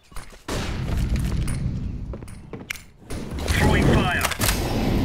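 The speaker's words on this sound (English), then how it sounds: "Deploying flashbang." A flashbang grenade thrown in CS:GO, heard as loud game audio with a thump, mechanical clatter and a sustained blast-like roar swelling near the end.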